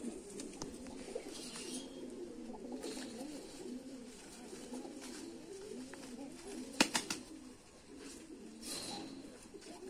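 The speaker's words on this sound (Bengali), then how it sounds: "ফার্স্টে যে মুসাল্লাম কবুতরটা দেখাইছিলাম" A Mushallam pigeon coos softly and repeatedly in a low, rolling rhythm, fairly quiet and close, with a few faint clicks and rustles around it.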